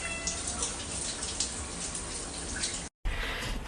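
Shower water running steadily, a close, continuous hiss and patter of spray, broken by a brief dropout near the end before resuming.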